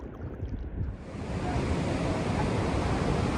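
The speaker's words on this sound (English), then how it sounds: "Big waves out there." Big ocean waves at Cape Cod National Seashore, Eastham, on the backside of a hurricane, heard as a loud, steady roar of surf that swells up after a brief quieter start.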